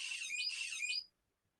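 A BBC micro:bit gives off a high, squeaky electronic chirping, a fast warbling burst lasting about a second, close and clear, then cutting off into silence.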